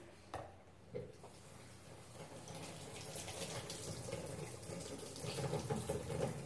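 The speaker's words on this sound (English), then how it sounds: "I'm going to real quickly rinse these." A kitchen tap running water over canned beans in a strainer, a soft hiss that starts after a couple of light knocks and grows steadier and slightly louder as the rinsing continues.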